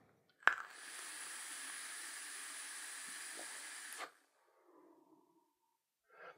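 A Taifun GT II Air atomizer fired at 24 watts gives a steady, close hiss of vapor for about three and a half seconds, opening with a sharp click, followed by quiet exhaling.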